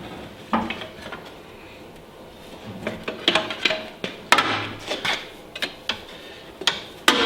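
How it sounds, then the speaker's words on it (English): A pry bar works an alternator loose from a Nissan Juke engine bay, with close, sharp metallic clicks and knocks coming irregularly and growing more frequent toward the end. "take a pry bar, and you're going to want to start just kind of prying on it a little bit until it frees up"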